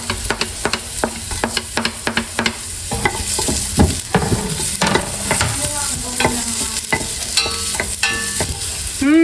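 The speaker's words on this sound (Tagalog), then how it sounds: "Ako po muna ay magigisa ng ricado." Garlic, onion, ginger and chili sauté for spicy-sweet chicken feet adobo, a steady loud sizzle broken by repeated sharp clacks of a utensil stirring against the pan, close up with no talk.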